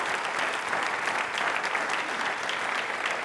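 An audience claps together in a steady, dense round of applause during a televised Independence Day quiz show, close and sustained throughout.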